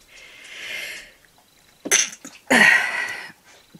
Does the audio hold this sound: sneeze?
yes